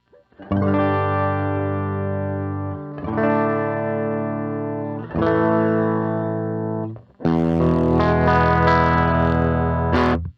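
An electric guitar rings out four sustained chords in a clean tone through a homemade Sproing reverb pedal, one after another, loud and close with no talking.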